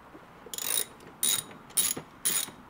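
A hand ratchet loosens the seat bolts on an Audi B9 S4, four quick bursts of rapid clicking separated by short pauses, close and crisp with no talking.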